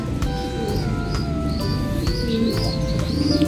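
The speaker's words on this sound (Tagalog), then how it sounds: "So ito po ang release ng ating mga kalapate." Racing pigeons coo during a release, giving soft repeated coos with chirps and faint wing flaps against a steady outdoor rumble under a dark sky.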